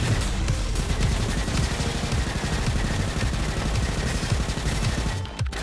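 Rapid, continuous automatic gunfire from the windmill rifle in the Robo Quest video game, loud and dense throughout with no pauses until a brief dip at the end.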